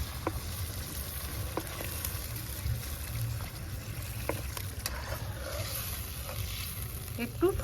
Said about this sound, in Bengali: মশলাটা কষানো হয়ে গেছে আমি এবার একটু জল দিয়ে দিচ্ছি